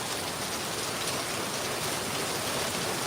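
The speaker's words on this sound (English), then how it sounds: "The rain is supposed to last till noon tomorrow." A downpour during a severe Oklahoma storm in Barnsdall, with rain drumming constantly on the ground and roofs close by, a thick, even roar with no talking.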